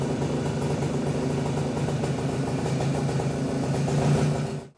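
A Cezeta scooter engine idles with its front lamp switched on, giving a steady, close, rapid putter that holds even throughout before cutting off abruptly at the end.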